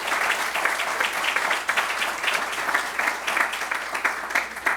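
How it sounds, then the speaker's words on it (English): An audience at a jobs announcement event in Little Rock applauds, a loud, steady round of clapping from many hands that runs throughout without pause. "Let's give them a big round of applause as well."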